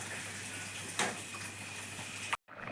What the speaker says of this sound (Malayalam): നന്നായിട്ട് തിളക്കുന്നുണ്ട് നന്നായിട്ട് തിളക്കട്ടെ